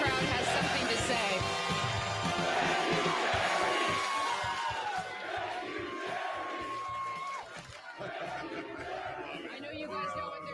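Large stadium crowd at a Wisconsin football game chanting in unison, a loud sustained roar of many voices with rhythmic swells, heard up close and filling the space throughout.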